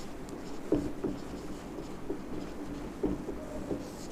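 A pen scratching out a geometry solution on paper in a quiet room, faint and intermittent with a few firmer strokes and taps, no speech.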